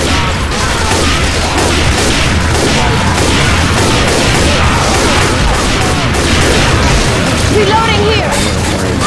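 Rapid gunfire from a Left 4 Dead 2 co-op session rattles on continuously and loudly, with dense bursts and booms packed together while players talk over the shooting.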